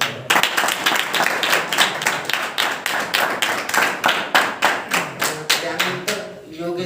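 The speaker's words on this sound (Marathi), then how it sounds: "सर्वांनी टाळ्या वाजून त्यांचे स्वागत करा" An audience at a Shri Chakradhar Swami and Shri Govindprabhu anniversary celebration claps in welcome, a loud and steady rhythmic run of sharp hand claps lasting several seconds.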